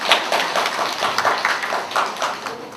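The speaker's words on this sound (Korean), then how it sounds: "두 분께 큰 환영의 박수를 부탁드리겠습니다" Seminar audience welcoming two speakers with steady, moderately close applause, a dense patter of many hands clapping with no talking over it.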